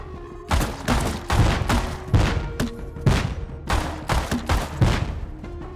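Gunfire in Rust comes as a steady string of sharp, evenly spaced shots, about a dozen in quick succession, loud and near with little else behind them.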